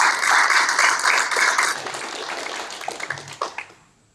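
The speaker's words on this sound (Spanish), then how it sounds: "Dale un aplauso fuerte al Señor" Church congregation applauding loudly together, a dense sustained clapping wash that gradually thins and tapers off into scattered claps.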